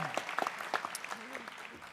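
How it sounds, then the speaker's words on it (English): A round of applause breaks out at a college convocation ceremony. It is faint and scattered, heard from a distance, while a voice speaks over it. "Let's give him a round of applause."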